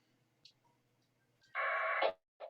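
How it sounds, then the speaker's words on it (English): Winlink email sent over amateur radio: a sustained burst of warbling digital modem tones lasting about half a second, loud and steady against quiet radio hiss, followed by a short second blip. "And now you can hear modem noises."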